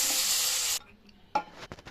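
Tomatoes frying in oil in a pan on a stove for a chicken gravy, a loud steady sizzle for under a second, then brief stirring scrapes and clatter with short bursts of sizzle.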